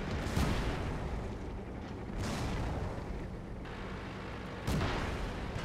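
Tank cannon shots in World of Tanks boom out in three heavy blasts spaced a couple of seconds apart, each trailing into a dense, rumbling battlefield din.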